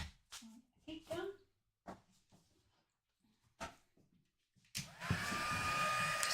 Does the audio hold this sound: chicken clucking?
no